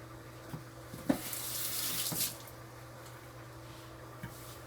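Cold tap water running over strained food in a kitchen sink, a short close rush of splashing water for about a second after a few light knocks.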